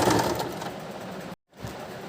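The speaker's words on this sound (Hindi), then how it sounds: "एक सिलाई हम एक पैर की ओर देंगे जिससे कि पट्टी में मजबूती" A sewing machine stitches a blouse strip in a short continuous whirring run, close and moderately loud, cutting out briefly near the end before resuming.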